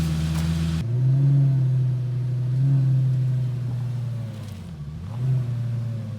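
A car engine with a worn-out clutch, on a Lamborghini, idles low and steady, then revs up and settles back in a couple of slow swells, a deep droning rumble heard close with no talking.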